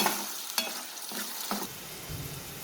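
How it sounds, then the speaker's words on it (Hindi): Mashed onion frying in oil in a karahi for beef chatkara, a soft continuous sizzle with a few stirring scrapes, close and fairly quiet, no talking. "मैंने यहाँ पर जो ये प्याज ली है उसको मैश कर लिया अच्छा सा और इसको अच्छा सा फ्राई होने देंगे"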